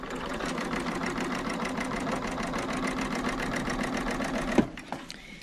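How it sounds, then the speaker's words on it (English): A sewing machine fitted with a piping foot stitches a zipper in a fast, steady mechanical rhythm up close, then stops abruptly with a clunk and a few light handling sounds. "I'm going to stop stitching right at the end."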